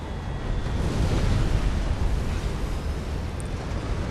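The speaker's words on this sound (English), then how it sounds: "That was an OP cruise missile because it just hit" A cruise missile explodes on buildings in Supreme Commander: Forged Alliance, giving a dense, rumbling roar that holds steady and loud for several seconds.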